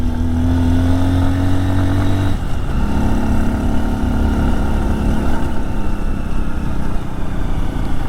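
A Honda motorcycle, either a CT125 or an XR150L, rides over bumps and loose muddy corners with its engine droning loud and steady, the pitch shifting as the revs change, with no talk.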